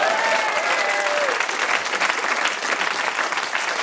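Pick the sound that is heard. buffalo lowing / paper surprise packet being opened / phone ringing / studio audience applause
studio audience applause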